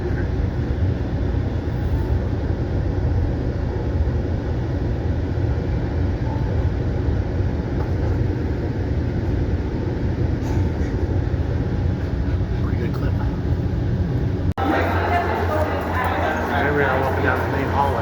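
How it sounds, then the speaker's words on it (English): Steady rumbling of a Metrolink commuter train in motion in Los Angeles, a constant low roar from inside the car with a brief change in tone near the end. "We're going to take this Metro link all the way downtown to Union Station."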